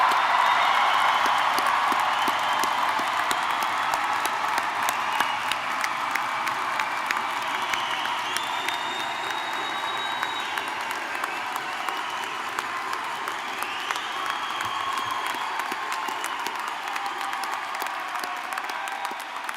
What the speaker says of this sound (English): give you a final round of applause and celebration for your graduation